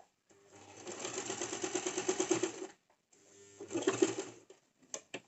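A sewing machine stitches a cigar pant in two runs, a long steady rattling burst, a short pause, then a shorter burst, heard fairly close with no voices.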